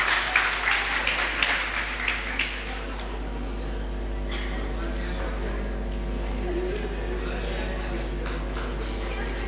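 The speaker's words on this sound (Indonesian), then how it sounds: "boleh kasih tepuk tangan dulu Miss dan Mister?" Brief audience applause at a teachers' convention, clapping in the first few seconds that fades quickly, followed by murmuring and talk over a steady low hum.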